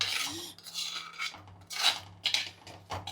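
Spoon stirring dried cassava in a hot clay pot, giving a series of soft rasping scrapes that come and go in uneven strokes, close and fairly quiet with no talk.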